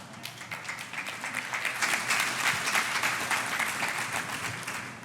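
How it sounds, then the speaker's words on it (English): Congregation applause swelling to a dense, steady wash of clapping, moderately distant, rising in the middle then easing off, with no voices over it. "But you're all clapping"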